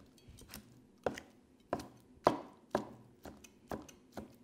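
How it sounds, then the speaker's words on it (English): Slow-roasted char siu pork, tender and falling apart, is chopped into small dice with a knife on a board: about eight crisp, close chops land at a steady, unhurried beat, with quiet gaps between them. "You just wanna chop this up"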